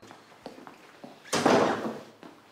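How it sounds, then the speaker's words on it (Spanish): A door pulled shut indoors in a home scene from a Peruvian TV series, a single loud swoosh and thud rising over a few faint taps and settling into a short fading rumble. "Entra, cierra la puerta."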